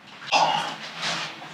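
Pitbull puppy giving a brief, high whimpering whine in two short rising cries, close and fairly quiet.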